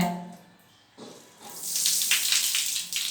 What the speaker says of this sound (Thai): แอบมาล้างมือน้องมาดา เอาปิดก๊อกน้ำไหม